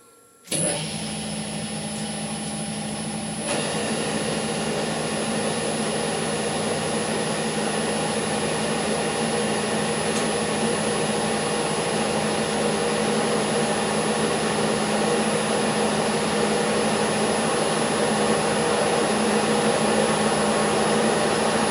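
A lathe runs steadily while turning cones on the ends of wheels, giving a continuous, fairly loud, even machine drone with no talking.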